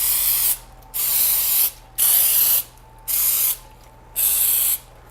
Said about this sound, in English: we're just gonna spray it just in case